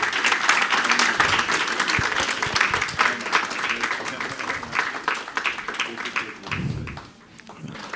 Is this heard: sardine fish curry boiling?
no